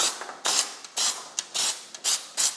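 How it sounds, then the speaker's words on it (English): Five quick bursts of aerosol cooking spray with flour coat a cheesecake pan up close, each hiss loud and separated by short pauses, with faint mechanical clicks of the nozzle between sprays. "So I'm just gonna spray this."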